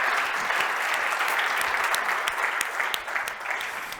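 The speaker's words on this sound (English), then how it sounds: "a round of applause for the panelists" Audience applause for panelists at a technology and trust launch event in Lausanne, a steady dense wash of many hands clapping that holds for about four seconds and thins slightly at the end, with no talk over it.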